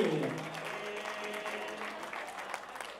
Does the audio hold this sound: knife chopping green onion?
no